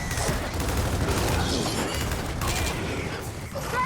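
Hammer Burst rifle fire in the Gears of War 4 video game: dense, loud bursts of gunfire and clattering mechanical noise run continuously throughout, with no pause.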